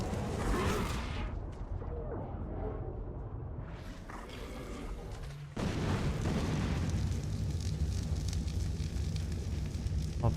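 Fire engulfing a player's base in the video game Ark Survival Evolved, a loud continuous roar of crackling flames and booming bursts, dense throughout and growing heavier and fuller about halfway through, with no talk over it.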